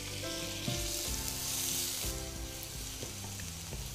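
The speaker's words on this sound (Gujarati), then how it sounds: "આ લસણ સંતળાઈ ગયું છે." Minced garlic and finely chopped raw potato sauté in hot oil in a pan, a steady, close sizzle with occasional stirring scrapes, no voices.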